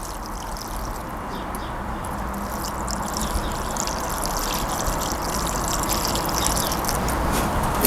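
Water pours steadily onto newly planted rose campion plants in a garden border, a constant close rushing trickle that swells slightly toward the end.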